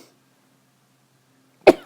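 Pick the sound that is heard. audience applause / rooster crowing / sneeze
sneeze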